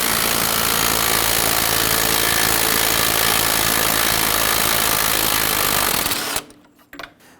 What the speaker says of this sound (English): Go ahead and loosen and remove that nut on the other side.